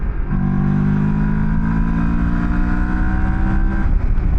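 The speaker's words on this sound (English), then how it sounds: "So there's your roll on third gear, 50 to 70." An adventure motorcycle rolls on in third gear from 50 to 70, giving a loud, steady engine drone with a strong humming tone that holds for several seconds, with no talking.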